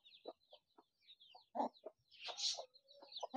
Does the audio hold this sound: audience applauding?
no